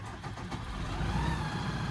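The engine of a corn harvesting machine fires and runs, a steady mid-pitched motor drone that builds slightly in loudness over a couple of seconds, with no talk over it.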